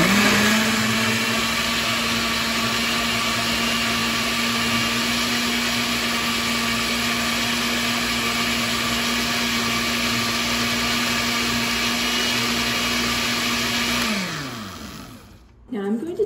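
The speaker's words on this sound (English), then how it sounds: "we are going to place it into the blender and blend well" A blender whirs steadily at high speed for about fourteen seconds, then winds down and stops, leaving a brief clatter.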